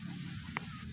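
A single short goose honk rings out over a steady background hum, brief and moderately clear.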